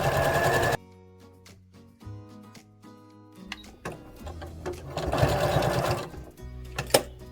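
A sewing machine stitches Velcro shapes for an activity quilt, with bursts of fast mechanical whirring broken by pauses, short back-stitch runs and clicks as the fabric is pivoted at corners.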